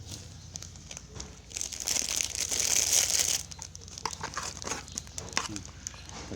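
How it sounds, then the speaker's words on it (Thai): A plastic bag crinkles and rustles loudly up close as fried fermented chicken wings are packed into it, swelling to a dense crumpling burst before settling into scattered handling noises. "การแพ็คใส่ถุงพลาสติกหมดเลยนะครับ"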